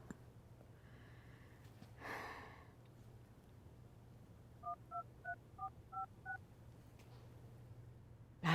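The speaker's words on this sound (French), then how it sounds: "j'appelle Françoise pour l'informer" Telephone number being dialed on a keypad, a quick run of about eight short electronic tones in an even rhythm, faint and close in a quiet room, alone without talk.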